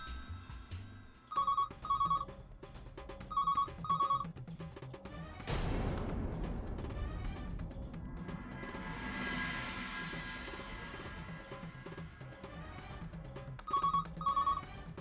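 A telephone rings in repeated double bursts at the start and again near the end, with a loud crash-like rumble in between that trails off slowly, heard at moderate volume with no talking.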